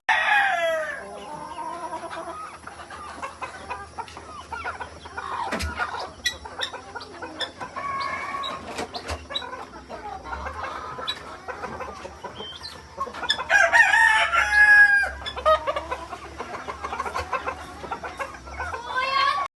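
Native hens on a small poultry farm cluck busily and overlap at feeding time, with a rooster crowing loudly partway through, among other farmyard bird calls.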